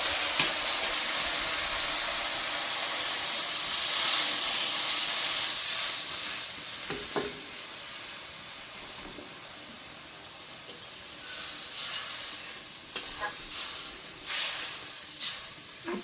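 Water poured into fried mustard paste masala in a hot pan hisses and sizzles loudly at first, the steamy crackle easing to softer bubbling with sporadic pops and spatters, up close with no talking.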